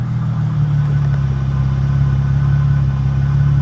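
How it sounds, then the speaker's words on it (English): A 2005 Chrysler Crossfire SRT6 roadster convertible idling close by, a steady, loud, even engine hum with a low drone throughout and no voices. "Let's listen to it idle for a second."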